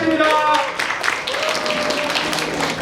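Audience applause for a quiz prize winner at a parenting lecture, a steady wash of clapping running throughout beneath a speaker's voice.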